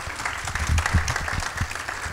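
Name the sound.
applause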